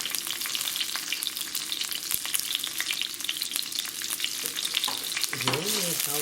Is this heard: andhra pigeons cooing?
no